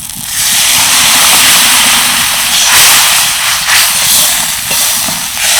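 Strained water poured into a hot pan of coriander-leaf curry with egg sets off a loud, close, continuous hiss of steam that swells and wavers for several seconds.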